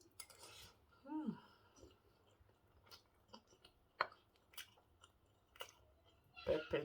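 Someone eating pork meat stew with white rice, with soft, wet chewing and occasional light clinks of cutlery against a dish, fairly quiet and close, ending in a slightly louder burst of mouth and utensil noise.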